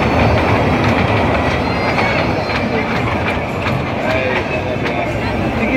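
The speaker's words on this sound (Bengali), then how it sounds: "ট্রেন তো অনেক জোরে চলে।" A train at a fair rumbles past fast and loud, with a steady clickety-clack of wheels and a continuous roar, mixed with crowd babble and voices.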